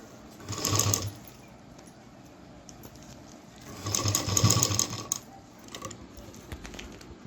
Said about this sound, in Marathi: अशी पूर्ण स्ट्रेट शिलाई मारून घ्यायची